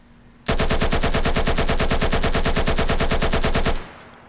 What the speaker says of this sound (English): Let's start off with the AKM, no attachments, and I'm not gonna counter the recoil